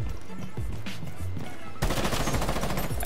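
Gunfire in the tactical shooter Rainbow Six Siege, quieter thumps and movement at first, then a sudden loud, sustained burst of rapid shots filling the second half.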